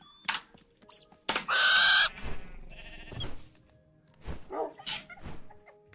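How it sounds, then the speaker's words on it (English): Owl mob from the Minecraft Naturalist addon giving a few short hooting and cooing calls at intervals, fairly close, with other creature noises between and no talking. "fly you during the night and do hooting sounds on the evenings"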